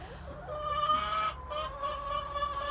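Chickens clucking close by in a steady run of soft, nasal calls that rise and fall over a low background hum, with no one talking.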